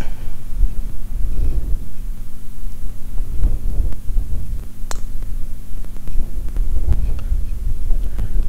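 Strong wind blows across an open golf course in Germany, a loud steady buffeting rumble on the microphone throughout, with no talk over it.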